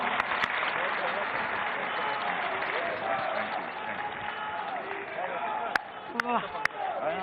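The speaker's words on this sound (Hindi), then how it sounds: "एक बार आप सबके लिए मैं चाहूंगी जोरदार तालियां हों।" Crowd applause at a political event in Delhi, a fairly faint but continuous wash of clapping under a few sharp bumps and handling noises.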